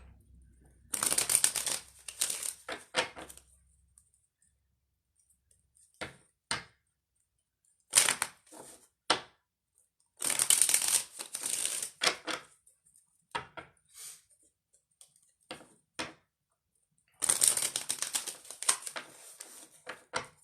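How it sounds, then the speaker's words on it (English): A tarot deck is shuffled in several quick riffling bursts separated by quiet gaps, with occasional soft taps and snaps, close and crisp. "Gotta shuffle again."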